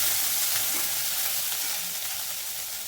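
Cumin and a spice mix pounded in a mortar, stirred as they fry in hot oil, give a dense, even sizzle close up with soft scraping underneath and no voices.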